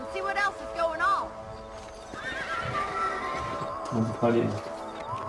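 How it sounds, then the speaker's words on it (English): A horse whinnies in the Western game Red Dead Redemption, with loud neighs and hoofbeats up close; a person briefly speaks over the sounds. "Let's get back on the horses and see what else is going on."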